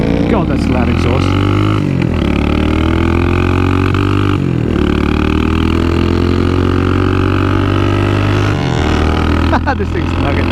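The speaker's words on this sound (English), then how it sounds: "God, that's a loud exhaust." A Yamaha R9 motorcycle's loud exhaust holds a steady, deep droning tone while riding, with brief dips and swells, as a voice talks over it throughout.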